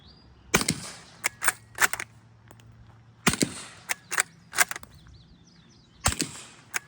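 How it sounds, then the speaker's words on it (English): Suppressed shots from a Ruger American rifle firing AAC 220 grain subsonic ammunition through a Dead Air Sandman X can: sharp, muffled cracks in uneven bursts of several quick shots, with quiet gaps between groups. "we are running AAC 220 grain subsonic ammo through this Ruger American, and on the front we've got the Dead Air Sandman X"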